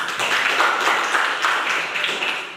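Students in an Indonesian school classroom clap together during a poetry lesson, producing a dense, steady patter of claps that holds for the whole stretch at close range.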